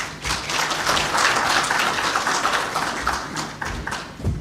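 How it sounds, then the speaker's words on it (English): Audience applause at a Kenyan government launch of a national alcohol prevention and control policy, a dense, steady wash of many hands clapping at close range that holds for several seconds and thins slightly near the end. "again we applaud her in a better way"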